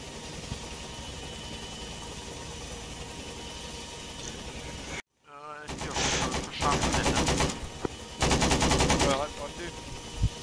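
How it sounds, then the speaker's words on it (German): Automatic gunfire in the video game ArmA 3, a military combat scene in the Da Krong Valley, arriving as loud rapid bursts after a brief dropout, with sustained rattling volleys over constant background engine-like rumble. "Ich schieß nach hinten, keine Sorge."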